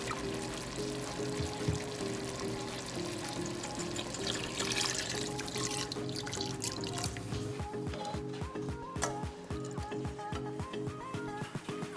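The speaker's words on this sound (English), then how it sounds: "I'm just gonna add another cup of beef stock" Beef stock pours steadily into a pot of braised short rib stroganoff. A continuous liquid splash gives way to trickles and drips near the end, close by and without talk.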